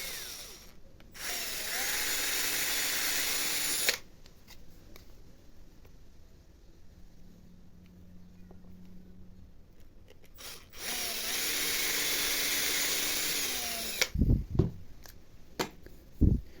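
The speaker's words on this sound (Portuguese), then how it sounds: "Aqui você pode furar um pouco mais profundo porque a peça já é maior." A power drill bores holes into wooden pieces for dowel joints, two loud, steady whirring runs of a few seconds each separated by quiet handling, then a few sharp clunks and knocks near the end.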